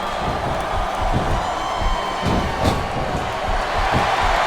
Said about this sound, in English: listen to that chant, Taz.